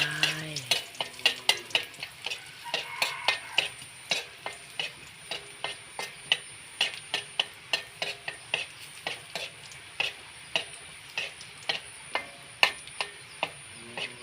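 Garlic sizzling in hot oil in a wok for stir-fried egg with napa cabbage, with a steady fry under repeated close clinks and scrapes of a spatula stirring, no talking.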